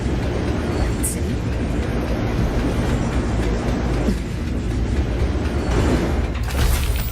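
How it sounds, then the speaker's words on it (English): In the video game Wuthering Waves, a Night City train gives a steady, loud rumbling rail roar that fills the whole stretch, with voices talking over it. "What's a Night City train doing behind a door?"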